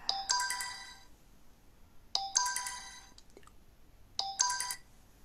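Phone ringtone of an incoming video call, a bright electronic melody repeating three times about every two seconds, clear and close with short gaps between bursts.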